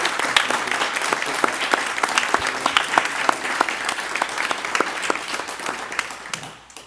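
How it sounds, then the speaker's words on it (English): A school board meeting audience applauds with dense, even clapping that holds steady for several seconds, then trails off at the end. "Can we give this guy a round of applause?"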